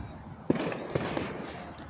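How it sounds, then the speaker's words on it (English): Fireworks go off outdoors as a few sharp, distant-sounding bangs over a constant broad background rumble, with no voices in between. "Guys, there's like fireworks out here, and I am scared as hell."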